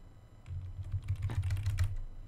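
Quick, fairly close clatter of fingers typing on a computer keyboard, an irregular burst of key taps that starts softly and grows busier, with no talking.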